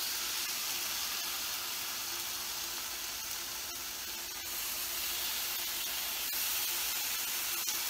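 Bacon strips laid into a hot pan sizzle with a steady, even hiss that carries on without pause, close and moderately loud, with no talking.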